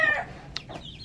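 Parawakan chickens, a hen and her young, give a few short clucks and chirps at close range, brief and sharp against a quiet farmyard background.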